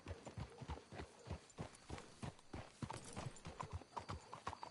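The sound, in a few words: horses clip-clopping in video game Red Dead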